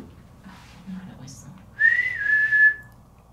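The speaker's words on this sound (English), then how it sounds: "can you whistle for us?" A short human whistle rises then holds a high steady note for about a second, clear and fairly close, after faint murmuring.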